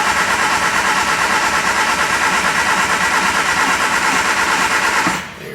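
A carbureted car engine with Weber carburetors catches and runs loud and close, holding a steady idle before dropping off sharply at the end, with no voices.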